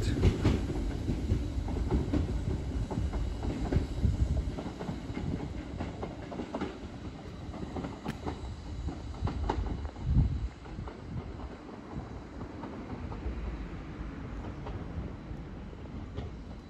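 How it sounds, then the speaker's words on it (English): A Merseytravel class 507 electric train pulls away for Southport, giving off a steady low rumble with clattering wheels on the track that gradually fades at a moderate distance. "Train now departing is a 507"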